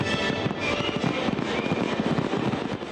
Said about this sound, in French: le 14 juillet ne serait pas le 14 juillet sans feu d'artifice.